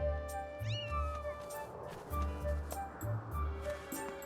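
A cat in The Legend of Zelda: Skyward Sword HD meows with a short rising-and-falling call over the game's background music and ambience, then softer mews follow.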